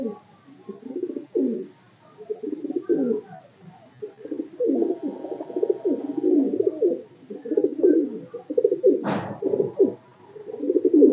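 Madrasi pigeons coo in repeated throaty bursts close by in a loft, the soft rolling calls continuing in a steady rhythm with a brief sharper sound near the end.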